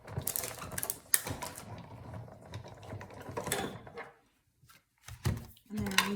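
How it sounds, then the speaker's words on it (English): Clicking and grinding gear sounds come from a hand-cranked Big Shot die-cutting machine as nesting dies cut tulle and paper, close and moderately quiet, with a brief pause partway through. "put this on here, put it on my big shot. I cut that out."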